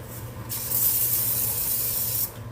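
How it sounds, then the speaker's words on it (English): Cooking spray hisses onto a baking pan for cranberry scones: one close, steady spray lasting about two seconds, then stopping abruptly. "I'm gonna spray a little"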